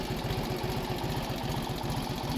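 A 1948 Indian Chief motorcycle engine just after a cold start, a loud, close, steady idle with an even rapid thumping beat and no voices.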